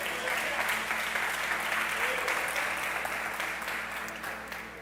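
A church congregation applauds during a worship service, a broad, sustained wash of many hands clapping, moderately loud and steady before slowly easing off.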